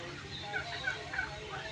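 Turkeys on a turkey farm in Ullapara, Sirajganj, give a few faint, short calls spaced about a third of a second apart over low background noise.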